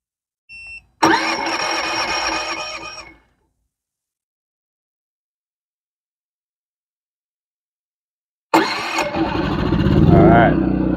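An EcoFlow dual fuel smart generator running on propane cranks with a short whirring starter burst, then falls silent for several seconds before catching and settling into a steady, loud engine drone up close.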